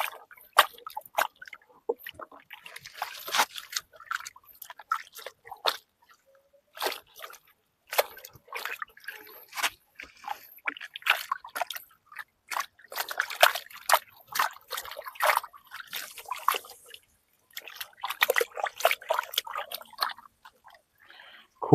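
Water trickles and drips while lotus tubers are washed by hand in a container, with irregular splashes, sloshes and small wet squishes coming in close, uneven bursts.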